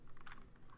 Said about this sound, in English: I'll just type this in down here at the hexadecimal numbers section